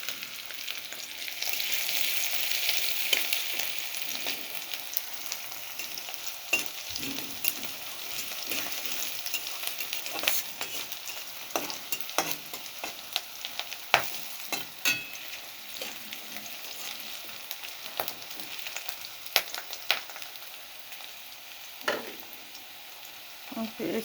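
Onion, chili and garlic fry in a pan with a steady, close sizzling hiss, broken by scattered clicks and scrapes from stirring, with no talk.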